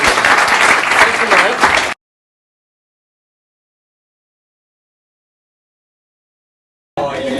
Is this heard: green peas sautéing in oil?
no